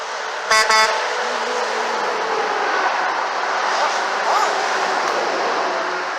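Two quick loud blasts of train horns fitted to a truck on an interstate ring out near the start, then fade into continuous rushing highway traffic noise, with voices chatting nearby.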